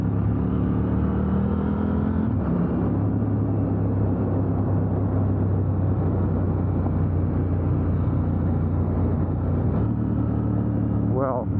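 A KTM 890 Duke R motorcycle engine drones loudly and steadily while riding, its pitch shifting with gear changes and throttle, heard under a rider talking over wind rumble.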